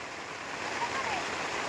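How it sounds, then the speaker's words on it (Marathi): Steady rain falling outdoors on a soggy camp, a faint, even hiss that swells slightly toward the end. "भिज भिज भिज पावसात भिजण्याचा आनंद घे असं वय"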